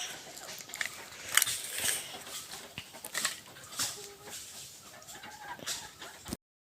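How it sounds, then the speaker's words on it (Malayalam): Chickens cluck in short, scattered bursts at a distance, with faint rustling and patter in the background. "അപ്പം നമ്മളിവിടെ കോഴിയുടെ അലപ്പെല്ലാം കേൾക്കാം"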